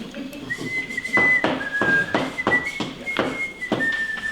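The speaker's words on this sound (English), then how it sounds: "that's a pretty tune you're whistling" Someone whistles a tune nearby, the melody carried in clear sustained notes with soft rhythmic thumps underneath.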